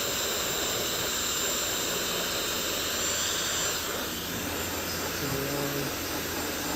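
A heat gun blows a loud, steady roaring hiss while warming the adhesive of a car's HOV clean air vehicle sticker as it is peeled off. The hiss shifts slightly partway through.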